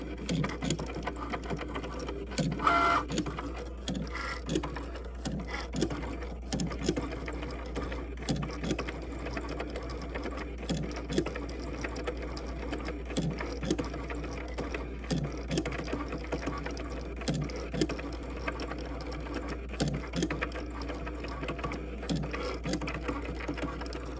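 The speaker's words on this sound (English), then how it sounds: "So the Cricut does not write in order. It writes out of order." A Cricut Maker cutting machine writing on envelopes makes a steady low motor hum with irregular light mechanical clicks and whirring carriage movements, close and continuous, with no talk.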